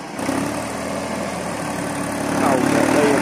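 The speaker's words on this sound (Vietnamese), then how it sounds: "Xe bắt đầu nổ máy, bánh đang nằm dưới mương các bạn." A Ford 4600 tractor engine runs steadily nearby in a farm field, a continuous mid-pitched rumble that grows slightly louder toward the end.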